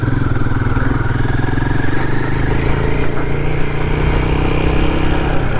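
A motorcycle ridden with the rider standing up gives a loud, steady engine drone at close range, with a constant low throb and some rattle throughout.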